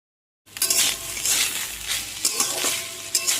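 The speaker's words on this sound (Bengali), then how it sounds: "এখন ছেলের জন্য একটু ফ্রাইড রাইস করে দিচ্ছি" Fried rice with paneer, peas and potato sizzling in a pan, starting abruptly after a short silence, with dense close frying hiss and intermittent stirring scrapes and clinks.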